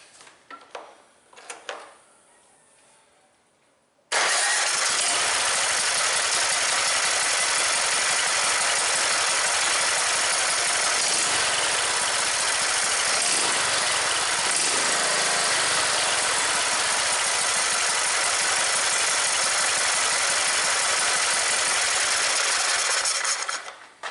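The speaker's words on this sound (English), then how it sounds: "I'm going to give it just a quick crank without the valve cover on." The small engine of an MTD riding mower, running with the valve cover removed, starts after a few handling knocks. It then runs steadily, loud and buzzing, for about twenty seconds before cutting off.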